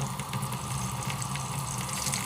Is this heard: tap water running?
yes